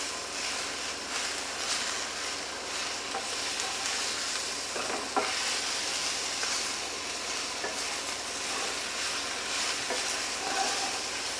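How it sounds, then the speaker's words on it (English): Spinach stirred and fried in a pan, a steady close sizzle with soft scraping strokes running throughout, no talk. "And the last little bit of spinach we get in there. Again, just keep stirring"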